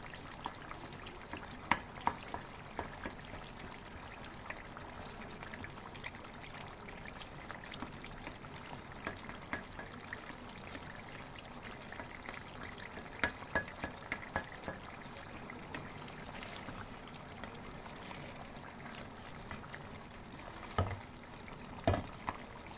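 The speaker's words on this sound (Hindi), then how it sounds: "इस चिकन को इसी टमाटरों की ग्रेवी में भूनना है" Chicken fries in a mashed tomato gravy for charsi-style karahi, a faint, steady low sizzle with occasional soft stirring clicks and scrapes throughout.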